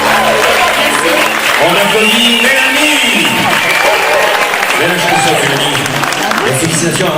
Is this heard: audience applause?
yes